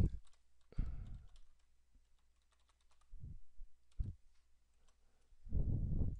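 A password being typed on a computer keyboard: short bursts of clicking keystrokes separated by quiet gaps, ending in a denser flurry of taps, close and fairly soft.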